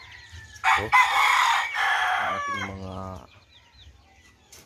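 Chickens on a backyard farm, including red Rhode Island Red hens and young pullets, give a loud crow-like call followed by clucking, with a brief stretch of speech under the birds.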